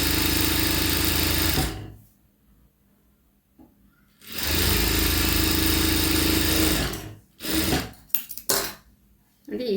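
An electric sewing machine runs in loud, steady bursts as it stitches cloth for a sleeve hem, with a long run, a pause, another long run, then a few short stuttering stitches.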